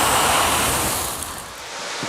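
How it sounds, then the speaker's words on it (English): A kitchen grease fire flares up toward the ceiling after a water-based extinguisher is sprayed on it, giving a loud, steady roaring whoosh that eases slightly partway through, with no voices. "Even using a fire extinguisher that is water-based can have disastrous results. Just look, the flames shoot to the ceiling."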